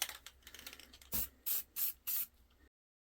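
Four short bursts of hissing spray from a Rust-Oleum spray paint can, evenly spaced and close, after a stretch of faint rubbing noise, then silence.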